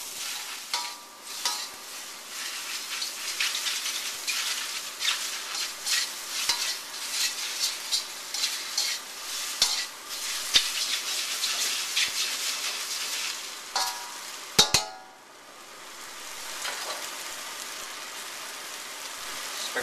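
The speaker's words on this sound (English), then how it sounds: "Now hot wok, and I put a little bit of water" Rice noodles sizzle and hiss in a hot wok with a splash of water while a utensil scrapes and stirs in busy, uneven bursts; the frying fades briefly near the end, then builds again.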